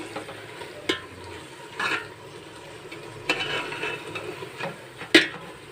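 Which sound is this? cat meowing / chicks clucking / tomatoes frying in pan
tomatoes frying in pan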